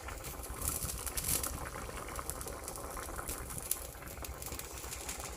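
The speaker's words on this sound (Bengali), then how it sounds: "এই যে আজকে আলুর তরকারি রান্না করতেছে।" Potato curry bubbling in a pot over a cooking fire, a steady low simmering and sizzling hiss with soft popping, continuous and close, without talk.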